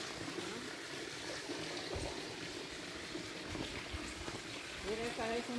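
Spring water from a natural source pours steadily into a stone bathing basin in rural Guerrero, a continuous splashing trickle heard up close, with brief voices near the end.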